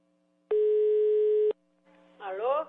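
A telephone line tone sounds on a callback: one steady, loud beep about a second long, then a brief lull before a voice begins talking at the end.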